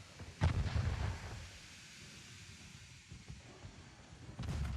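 Naval guns firing in the game Ultimate Admiral Dreadnoughts, a heavy boom at the start and another at the end, with faint rumbling distant shots in between, no talk.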